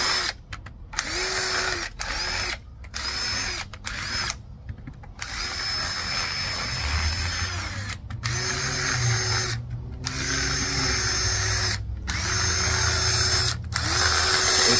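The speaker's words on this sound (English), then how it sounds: "take your drill, whether it's an impact or a regular drill or whatever" A power drill drives into scrap 2x10 lumber in repeated short bursts, each whine starting and stopping with gaps of quiet, loud and close with a rough mechanical grinding underneath.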